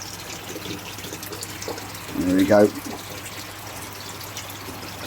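Water from a koi pond pump pouring out in a steady, even rush, with a brief louder splash midway and a short bit of speech over it.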